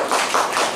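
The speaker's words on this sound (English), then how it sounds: "Let's give Raul another big hand of applause." Audience applause at an open mic night at a music store: a short burst of clapping from a small crowd, dense overlapping claps at moderate loudness with slight pulsing swells, heard alone.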